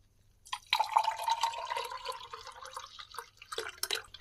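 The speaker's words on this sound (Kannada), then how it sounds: "ಮೊಸರಿಗೆ ಸ್ವಲ್ಪ ನೀರು ಹಾಕಿ ಅದನ್ನು 2 ಗ್ಲಾಸಲ್ಲಿ ಮಳ್ಳು ಹಾಕಿದ್ರೆ ಸಾಕು, ಮಜ್ಜಿಗೆ ರೆಡಿ ಆಗುತ್ತೆ." Liquid pouring and splashing as curd and water are mixed into buttermilk by pouring back and forth between two glasses, a close trickling stream with a short second pour near the end, no talking.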